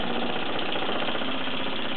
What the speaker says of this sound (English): buffing or polishing machine, it's almost like really running light because it offers no resistance at all